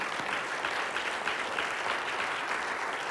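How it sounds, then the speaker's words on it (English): A church congregation gives a clap offering to the Lord, steady dense applause filling the room, moderately distant and without talk over it. "Let's give the Lord a clap offering again."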